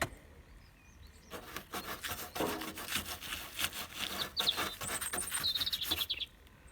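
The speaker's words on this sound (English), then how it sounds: "Hear that little robin?" A robin singing outdoors near car bodywork on a Ford Escort GTI: faint, high chirping phrases toward the end, partly masked by nearby scraping and rubbing work noise.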